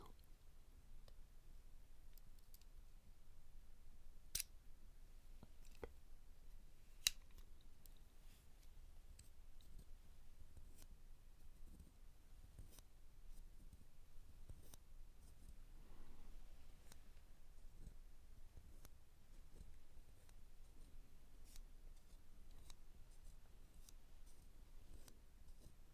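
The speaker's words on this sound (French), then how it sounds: "La petite paire de ciseaux." A small pair of scissors handled up close in a quiet room, giving sparse soft clicks and taps over a faint steady hiss, with a couple of sharper snips standing out.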